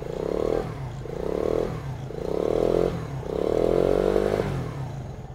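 A nearby Chinese motorcycle engine revs four times in a row, each surge swelling and falling back toward idle, loud and close.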